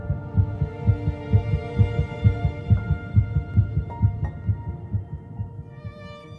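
A fetal heartbeat at about three weeks after fertilization, a fast steady run of soft low thumps, close and even, with a faint hum behind it.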